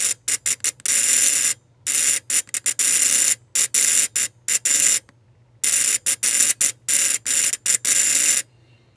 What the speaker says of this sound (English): This is a buzzer. It's a homemade buzzer.